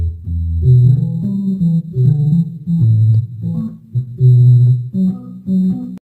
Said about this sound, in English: Let's run it through an amp. It's a bass.